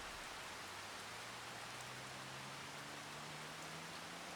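Steady rain falls in Farming Simulator 25, a continuous soft hiss of drops spread evenly throughout, with a faint low hum underneath and no talk.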